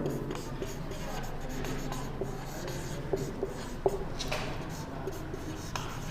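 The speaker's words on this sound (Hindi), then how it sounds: "हम लिखते हैं एग्जाम्पल," Chalk or marker scratches steadily across a classroom board as an English grammar example is written out, a continuous close rubbing with a few sharper taps and strokes, no talking over it.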